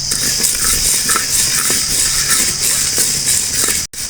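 Whole black urad dal dry-roasting in a pan gives a steady, dense rattling and scraping of grains against the metal, continuous and fairly loud throughout.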